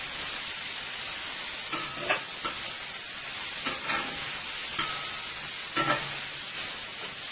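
Vegetables for chicken wraps cooking in a hot pan, a constant sizzle and fry with several scraping, clattering stirs at uneven intervals, close and fairly loud, with no talk.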